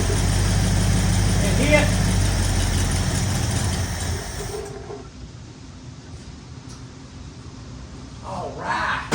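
A rusty 1964 Ford Fairlane Thunderbolt clone's engine runs loud and rumbling for several seconds, then cuts out, leaving quieter background noise; people talk over it.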